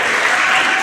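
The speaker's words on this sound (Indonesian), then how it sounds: "Tepuk tangan buat Parpaba." A large crowd at an HKBP Sunday school jamboree in Samosir claps for a group, loud dense applause that stays steady throughout the brief moment.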